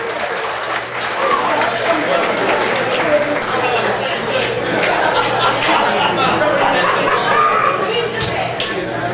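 Wedding guests applaud after a toast, a loud, dense wash of clapping mixed with crowd chatter and voices that carries steadily through the whole stretch.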